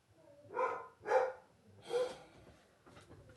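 A dog barks three times at close range in a fairly regular rhythm, followed by a fainter fourth yip or huff and some snorting breaths between barks.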